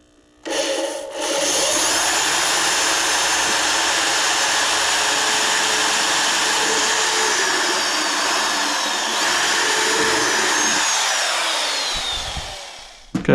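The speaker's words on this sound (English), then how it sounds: "An actual drill. Hold this down where I want it and go to town." A power drill whines steadily while driving screws to mount a table saw base onto a table, a continuous motor drone lasting most of the stretch before winding down.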